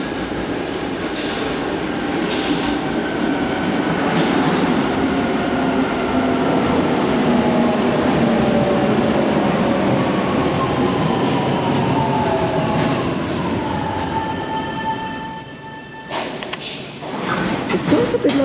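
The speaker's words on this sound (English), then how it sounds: "we got the Louis Blanc train" Paris metro line 7bis train running at Louis Blanc station, a steady loud rumble of wheels and motors with a rising whine as it moves off, then brief squeals and a drop in level near the end.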